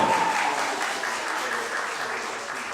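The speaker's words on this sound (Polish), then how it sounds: "Brawa, gratulujemy" An audience at a school eco-drama awards ceremony claps steadily through the whole stretch, a loud, full room of applause that eases slightly toward the end, with no voices over it.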